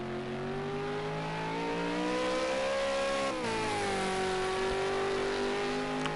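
A race car lapping Bathurst in Project Cars 2 drones steadily at high revs, its engine pitch rising and then easing through gear changes, loud and continuous with no talking.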